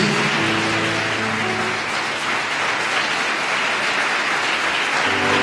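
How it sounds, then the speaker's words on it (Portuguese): A church congregation applauds loudly and steadily, a dense continuous wash of clapping filling the whole stretch, with a faint low tone briefly sounding beneath it. "Você pode aplaudir bem forte em nome de Jesus?"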